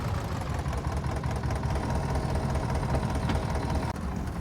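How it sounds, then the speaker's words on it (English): A farm tractor with a planter hitched on runs steadily nearby, its engine giving a continuous low, knocking idle rumble with no talk over it. "I'm gonna put this tractor with the planter on in here"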